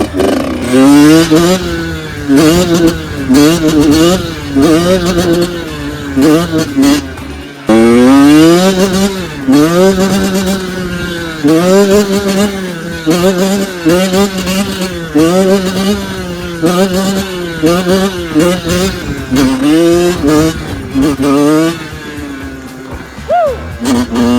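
A motorcycle engine revs loud and close during wheelie practice, mostly held at low revs with brief rises toward higher revs, its pitch climbing and falling continuously throughout.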